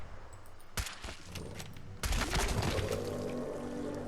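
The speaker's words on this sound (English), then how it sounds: "I can hear gunfire off in the distance" Gunfire in the video game Fallout 4, heard from afar while on an island, a few faint cracks followed by a rattling burst of shots under a low watery background rumble, quiet and with no talking.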